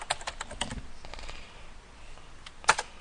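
Computer keyboard keys tapped in a short burst of typing, soft close clicks with a pause and a final sharper keystroke.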